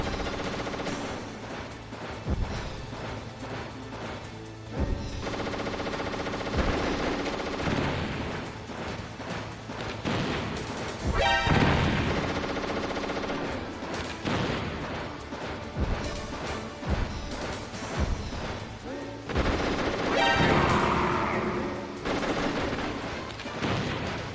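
Enemy gunfire in the Metal Gear Solid game: repeated sharp shots and machine-gun bursts with crashes and impacts over a steady game soundtrack, loud and busy throughout.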